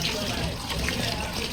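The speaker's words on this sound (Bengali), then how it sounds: "তাই বাইদো চিকেন ধুয়ে দিচ্ছে" Tap water runs steadily while chicken is being washed, a close, continuous splashing rush filling the whole moment with no pauses.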